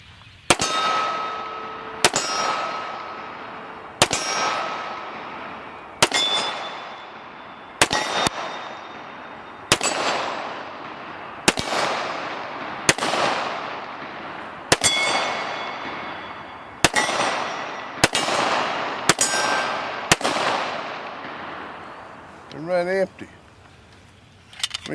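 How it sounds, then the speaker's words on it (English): A Rock Island TAC Ultra FS HC .45 ACP pistol fires a full magazine at steel targets: about a dozen loud, evenly spaced shots, each followed by a ringing metallic clang from the steel, with a brief handling rattle at the end. "I'm gonna shoot a magazine and then we'll take a break and load the magazine"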